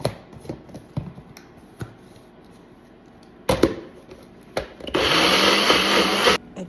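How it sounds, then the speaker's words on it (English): A struggling blender purees cooked vegetables with a little beef broth for an elk ragu: a few scattered clicks and knocks, then a loud, steady whir lasting about a second and a half before it cuts off. "put it in the blender and blend it, puree that with just a little bit of beef broth"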